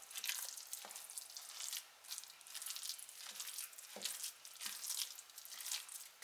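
Wet, squishy stirring of a thick nut roast mixture with flax seeds and grainy mustard, soft irregular sloshing and scraping strokes at close range, fairly quiet with no speech.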